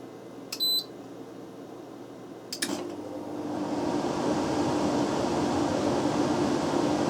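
An air conditioner in a workshop, switched to full cooler mode, gives two short electronic beeps, then its fan swells into a steady, broad whooshing hum that keeps running with no talk.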